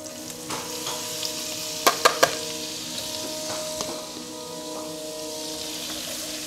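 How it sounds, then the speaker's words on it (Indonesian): Steady close sizzling of flour frying in melted butter in a pan, with a few sharp scraping clicks from stirring near the middle. "pastikan kita akan menggoreng tepung terigunya sebentar supaya tidak ada lagi bau mentahnya"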